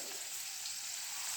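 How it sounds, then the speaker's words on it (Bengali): Radishes fry in a pan, giving a faint, steady hiss and sizzle that holds evenly throughout with no talking. "মূলোগুলো ফ্রাই করছি।"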